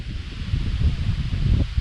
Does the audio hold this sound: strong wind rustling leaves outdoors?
yes